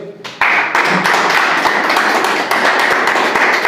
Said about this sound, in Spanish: Dame un aplauso a Dios.